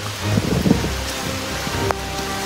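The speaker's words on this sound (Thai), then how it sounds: "ฝนตกแล้ว" Rain falling steadily outdoors in rural Thailand where a bird trap is being set, a continuous hiss of drops close by with a few faint knocks and rustles but no talk.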